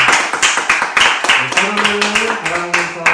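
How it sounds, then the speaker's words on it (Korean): A church congregation at a Sunday worship service claps in a steady rhythmic pattern, loud and close, while a sustained tone and voices sound along with the clapping. "우리 하나님께 영광을 박수하겠습니다."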